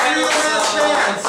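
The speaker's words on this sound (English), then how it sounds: "Give them a round of applause." Audience applause for a band at a live show, a dense wash of clapping and crowd noise filling the room at steady loudness throughout.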